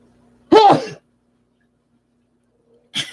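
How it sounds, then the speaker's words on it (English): A single sharp, explosive sneeze up close, followed by a quiet pause and the start of another short vocal burst at the end. "Excuse me, gotta sneeze."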